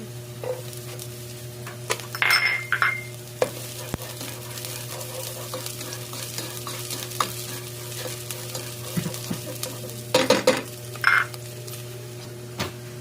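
Chopped onions sauté in oil in a pan for bopis, a soft, continuous sizzle under a low steady hum, with occasional utensil scrapes and clatters against the pan.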